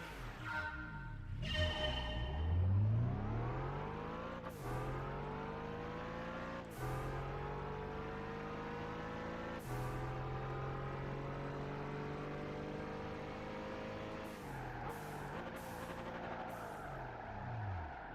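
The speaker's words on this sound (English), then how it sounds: "Oh my god, those engine sounds." Racing car engines in the Gran Turismo 5 driving game, a continuous high revving drone that climbs through the gears, with sharp shift breaks and repeated rises in pitch over eighteen seconds, loud and steady with no talk.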